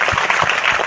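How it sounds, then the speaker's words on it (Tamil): A brief burst of audience clapping for a women's volunteer group at a community women's gathering in Ambattur. The dense, steady patter lasts under a second. "நம்மளுடைய மகளிர் குழுக்கு ஒரு பலத்தை கைத்தட்டி கொடுத்தாங்க"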